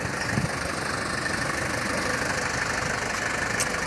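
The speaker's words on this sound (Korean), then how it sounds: "엔진 소리도 아직 좋아요" Close, constant idling of a 2001 SsangYong New Korando 230SL manual diesel SUV engine, rough and slightly clattering, holding an even level throughout without any voices.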